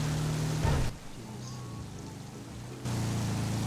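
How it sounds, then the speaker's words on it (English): Steady rain hisses as a broad wash of noise that drops to a quieter patter for a couple of seconds, then returns at full strength, with a brief muttered voice near the start. "I don't know if this rain's ever gonna stop"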